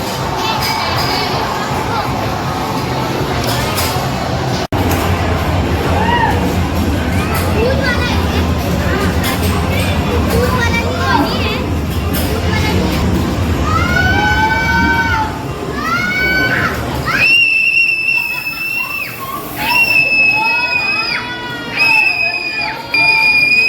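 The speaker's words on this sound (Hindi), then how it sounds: "अभी देखिए किस तरीके से चिल्लाएगी।" Girl screaming on an amusement park ride at a game zone: a loud, crowded mix of shrieks and shouting amid a noisy hubbub, with sharp high-pitched screams repeating near the end.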